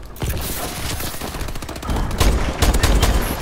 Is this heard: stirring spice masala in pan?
no